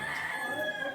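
A rooster crows at a Hindu mother-goddess temple, one sustained, fairly loud crow alone with no talk.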